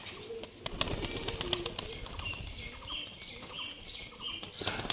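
Rajshahi Giribaj pigeons at a farm flap their wings in flight: soft, rapid wingbeats in repeated bursts, with faint coos and chirps nearby and some background noise.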